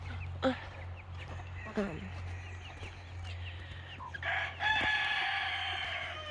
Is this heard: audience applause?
no